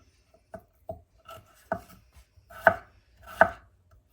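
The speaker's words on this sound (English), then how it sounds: "what I'm going to do is dice these up first" A knife dices potatoes on a cutting board for a stuffed chicken breast dinner, five or six sharp, close chops spaced unevenly, the last two loudest, with quiet pauses between.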